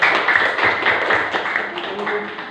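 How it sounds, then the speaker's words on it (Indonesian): Students in a classroom clap for a discussion group, with uneven, scattered taps and claps that are moderately loud and close. Faint voices can be heard under them. "Oke, tepuk tangan dulu untuk kelompok 2."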